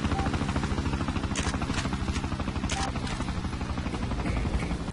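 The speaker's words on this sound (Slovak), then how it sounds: "Ja počujem zase ten skurvený vrtuľník" A helicopter in the video game Freedom Fighters thumps continuously and loudly with a dense rotor chop, mixed with sharp bursts of gunfire.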